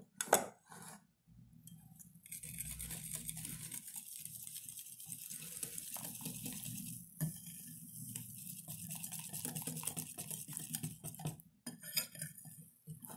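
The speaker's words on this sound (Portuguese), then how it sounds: "Vocês podem estar mexendo com garfo ou com garfo da batedeira" Pancake batter being stirred by hand as flour is mixed in, a continuous soft scraping and swishing with a few louder knocks, close and steady with no talk.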